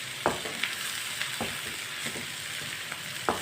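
Masala spices with fresh green coriander frying in a pan for aloo vada, a steady soft sizzle with occasional faint scraping stirs, fairly quiet and alone.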